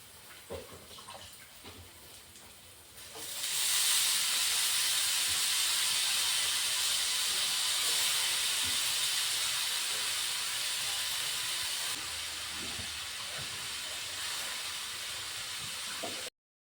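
Bhaji, gram flour fritters with potato, go into hot oil in a home kitchen, and a loud, steady sizzling hiss starts after about three seconds. It eases slightly later but keeps going to the end.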